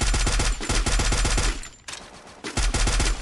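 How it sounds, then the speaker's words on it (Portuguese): Rapid automatic gunfire in the Free Fire battle royale game, with bursts of dense shots, a brief lull partway through, then more firing, loud and close with no talk. "Tão atirando em tu aí, mano"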